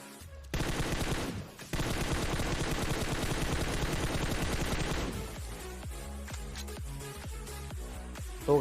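Rapid bursts of automatic gunfire from PUBG Mobile gameplay, loud and sustained for several seconds, then tapering into scattered single shots and clicks.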